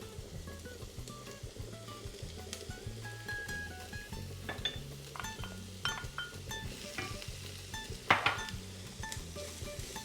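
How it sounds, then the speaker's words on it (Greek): Bacon sizzles on high heat in a pan of potatoes for a carbonara-style dish. There is a steady frying hiss with frequent clinks and scrapes of utensils against cookware, close by and with no talk. "Και αρχίζω και το δουλεύω με μπέικον για να λιώσει το λιπάκι που έχει το μπέικον"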